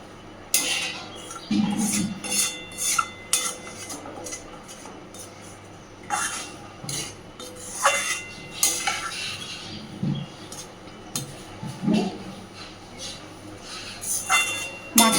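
Rohu fish mixed with poppy seed paste and spices in a pan, with clinking, scraping spoon strokes on metal and a faint sizzle in between, close, in uneven bursts.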